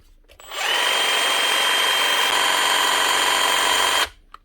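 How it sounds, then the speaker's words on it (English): A Makita DJV184 cordless jigsaw, just repaired with its base reattached, runs for about three and a half seconds. It gives one close, steady, high-pitched motor whine from start to stop, with no talk over it. "One base reattached to Makita DJV184 cordless jigsaw."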